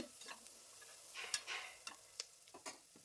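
Onions frying in oil in a pan for egg biryani, with a faint sizzle under a few sharp scraping strokes of a spoon stirring at irregular intervals.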